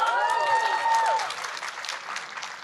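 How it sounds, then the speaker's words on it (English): An audience at a Barack Obama speaking event cheers and applauds steadily, the clapping loud and dense and a voice rising above it before the noise eases slightly toward the end. "why was everybody cheering for him?"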